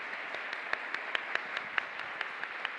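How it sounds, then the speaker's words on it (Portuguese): An audience at a literary festival in Curitiba applauds with scattered, sparse claps. The clapping comes in a fairly steady rhythm at a moderate distance, quiet against the room's background hum. "Uma salva de palmas para a Ana Sui."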